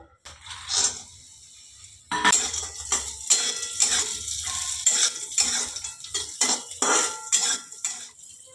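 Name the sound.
frying cashews and raisins in ghee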